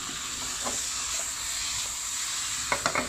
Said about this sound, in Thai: แล้วก็ทำการผัดคลุกเคล้าทั้งหมดให้เข้ากันนะครับ เมนูกุ้งผัดพริกเกลือนะครับ